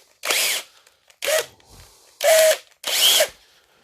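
A small drill whirs in four short bursts, each about a third of a second long, drilling center-punched marks on wooden clamps, with brief pauses between, loud and close.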